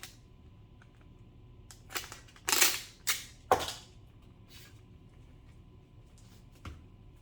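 Regular packing tape is pulled off the roll and torn while packing comic books for shipping, giving a few short rasping rips in a quiet room, close and alone without talk.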